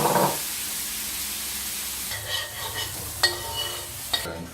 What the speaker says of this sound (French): une fois que la cuisson est terminée, vous déglacez donc avec le vinaigre 6 épices